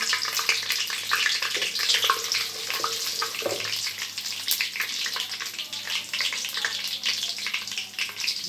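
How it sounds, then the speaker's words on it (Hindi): Whole spices, black cardamom, cloves and cinnamon, fry lightly in oil, giving a steady, crackling sizzle with scattered sharper pops. It runs continuously at moderate volume, up close, with no voices over it. "उसको ज़्यादा आपने फ्राई नहीं करना, बस हल्का सा आपने फ्राई करना है"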